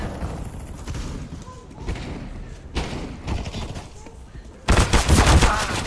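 Video game gunfire played through GeForce Now: muffled game ambience, then a sharp, loud burst of shots in the final second.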